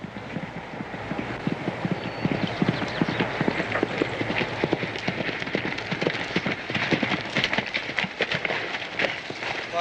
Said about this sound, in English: there's other ways of riding a horse except at a dead run